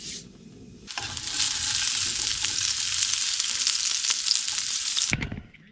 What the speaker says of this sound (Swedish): så ska vi steka upp lite köttbullar